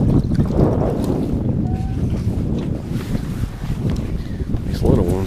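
Strong wind rushing across the microphone while kayaking on Lake Norman during a fishing tournament, a loud continuous buffeting roar with faint water sounds and a voice talking underneath.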